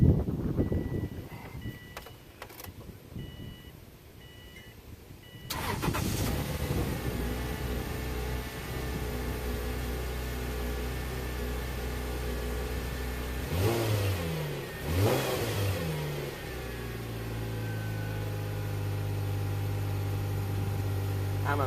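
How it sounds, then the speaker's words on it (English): A Subaru running off jumper cables cranks and then catches, its engine settling into a steady idle with a couple of brief revs partway through, close and continuous after a quieter stretch of clicks and rustling. "I'm amazed by how little battery power it takes to start this car."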